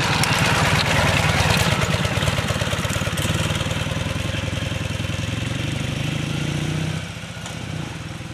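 A Ural motorcycle with a sidecar runs steadily close by, its engine giving a continuous throbbing rumble that holds for several seconds and then eases slightly toward the end, with no talk over it.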